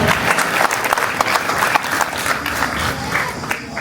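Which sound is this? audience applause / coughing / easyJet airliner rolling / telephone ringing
audience applause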